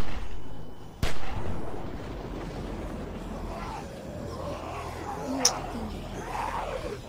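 Headshot gunfire in the video game The Walking Dead Season 2: two sharp, isolated shots separated by a few seconds over quiet ambience, with talking between them.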